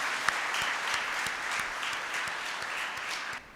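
A church congregation at Sunday Easter-season Mass in Lahore breaks into steady, full applause that fills the room for several seconds before fading out at the end.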